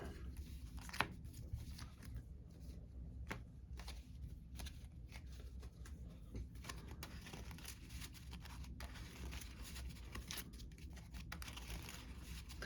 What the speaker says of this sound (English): I really like shuffling like this, depending on like how I feel about the deck.